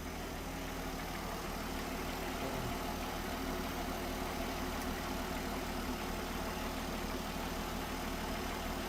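A car engine fitted with a Holley Sniper EFI conversion, replacing an old distributor and Autolite 1100 carburetor, idling smoothly: a steady, even, low hum with no other sounds, heard faint and constant.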